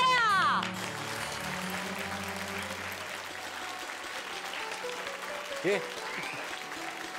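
An audience at a performance gathering in a Marathi TV serial breaks into steady applause, a dense, sustained patter of many hands that follows a short spoken line and continues evenly, with a brief voice cutting in near the end.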